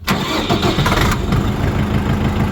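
A mini tractor's engine cranks briefly and fires up, then runs at a loud, steady chugging idle close by.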